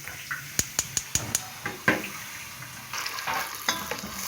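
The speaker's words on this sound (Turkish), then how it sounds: "Şöyle tereyağımızı koyduk. Şimdi biraz da sıvı yağ koyuyoruz. Bunun erimesi lazım." Butter and vegetable oil heating together in a pan for Iğdır-style flour halva, opening with a quick run of five light taps, then a faint sizzle and scraping of a utensil.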